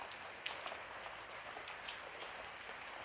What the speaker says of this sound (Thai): ฝนตกปล่อยปล่อย